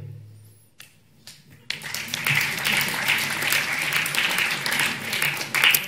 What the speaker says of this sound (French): Applaudir Esther Cornexel.